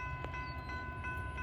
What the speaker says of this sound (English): We got a southbound NS intermodal that has green on the coal sand Columbus Sandusky line here